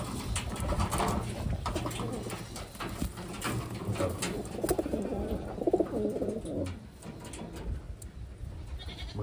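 Pigeons coo steadily in a low, murmuring chorus among other birds, with continuous rustling and background noise from a nearby loft or cages.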